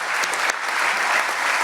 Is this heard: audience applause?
yes